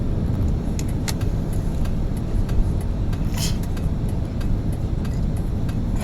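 A 1997 Ford Expedition driving on a street gives a steady low engine and road rumble heard from inside the cabin, with faint light rattles on top.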